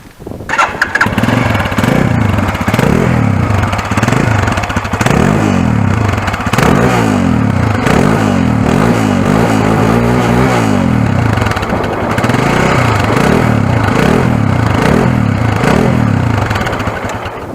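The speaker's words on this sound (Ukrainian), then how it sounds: "Мотоцикл заводиться або з електростартера, або з піхача." A Lifan KPX 250 motorcycle engine with a steel muffler cranks over and fires up, then idles loudly and steadily with a rhythmic, throbbing pulse close by.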